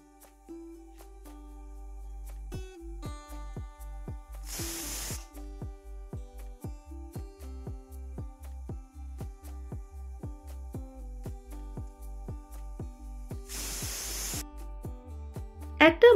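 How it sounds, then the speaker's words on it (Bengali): A pressure cooker lets off two loud bursts of hissing steam as it whistles, each lasting about a second and spaced well apart, over steady background music. "প্রায় 2 থেকে 3টা সিটি দিয়ে দেব প্রেসার কুকারের মধ্যে।"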